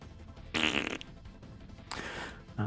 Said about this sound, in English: Okay, make fart sounds.